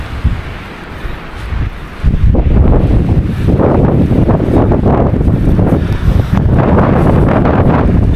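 Strong wind on Mount Wilis roars and buffets the microphone in loud, rumbling gusts. It grows heavier after a calmer moment and keeps up without pause.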